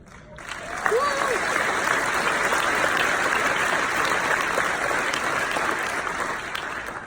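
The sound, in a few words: applause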